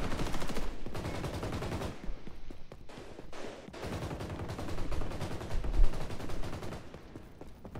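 Automatic rifle fire from the shooter XDefiant, including an AK, comes in dense, rapid bursts close up, with overlapping shots from other players and a few short pauses.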